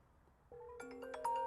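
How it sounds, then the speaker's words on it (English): An outgoing phone call played through wireless CarPlay in a 2010-2013 Lexus GX 460 gives a short electronic ringing tone, steady and clear inside the cabin, that begins after a brief quiet moment. "So if you want, so I'm making a phone call,"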